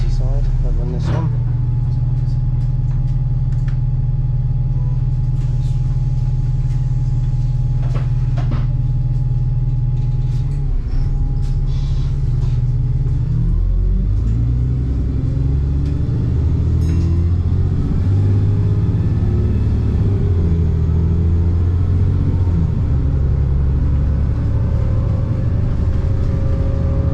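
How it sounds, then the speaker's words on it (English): A Riva Merseyside train pulls away from a platform on the Merseyside network, a loud low engine drone shifting into a rising, changing rumble as it accelerates, with a voice talking over it. "We'll hear it accelerate away in a second. But it is a Riva Merseyside."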